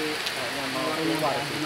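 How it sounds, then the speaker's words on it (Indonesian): Heavy rain pours steadily outside a house, a dense broadband hiss that fills the whole clip while a person talks over it. "Oh, Masya Allah, hujannya deras."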